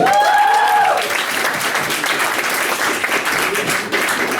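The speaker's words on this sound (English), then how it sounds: "Hey, clap again, everybody." A comedy club audience gives a comedian loud, dense applause. A voice calls out briefly at the start, then the clapping rolls on steadily.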